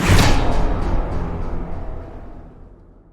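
A layered cinematic hit from UVI Meteor FX opens with a heavy kick-drum thump, then a dense wash of noisy layers swells and slowly decays over three seconds, loud and alone.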